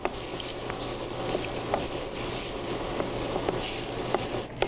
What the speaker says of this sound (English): So our mushrooms took about 5 minutes or so, sauteed in a little bit of coconut oil and a little bit of salt